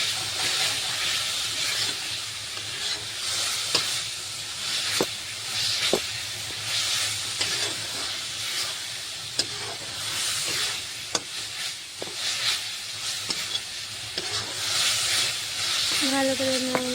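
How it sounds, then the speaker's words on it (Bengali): Masala fries and is stirred in a pan with a continuous loud sizzle and hiss, broken by scattered sharp scrapes and taps of the spoon against the metal. "ভালো করে দেখো আমি নেড়ে নিচ্ছি"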